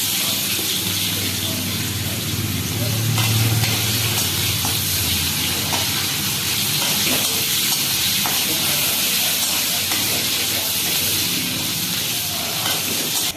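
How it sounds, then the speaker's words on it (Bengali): Chopped onions frying in hot oil with green chillies, after a fish head was fried, making a loud, continuous hissing sizzle that stays steady throughout. "পেঁয়াজ কুচি দিয়ে দিলাম"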